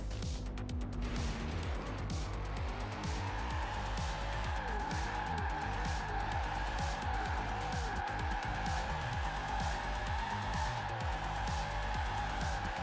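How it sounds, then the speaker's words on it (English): Car drifting in Forza Horizon 4, a continuous engine drone with wavering tire squeal running through most of the stretch, loud and steady without any talk. "Drifting in Forza Horizon 4 expectations."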